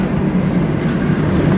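An old DSB second-generation S-train runs on Copenhagen's S-bane in regular service, a loud, steady low rumble of wheels and carriage close by with no pauses.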